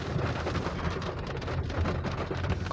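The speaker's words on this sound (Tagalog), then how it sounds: "Grabe yung ulan, biglang bumuhos, napakalakas." Steady, dense roar of heavy rain pouring down continuously, loud and close with no voices, a constant wash of noise throughout.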